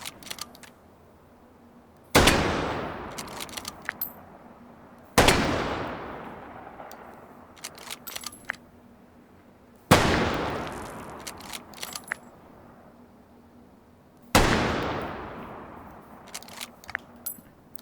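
Four loud, sharp bolt-action rifle shots from the Battlefield 1 video game ring out at even intervals. Each blast decays into a long echoing tail, and faint metallic bolt-cycling clicks follow in between.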